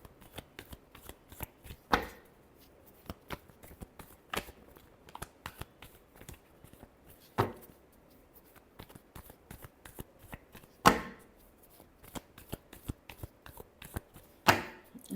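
Tarot cards are shuffled over and over for a long stretch, with soft riffling and dense papery flicks broken by several sharper slaps and bursts. The sound is close and steady, with no voices.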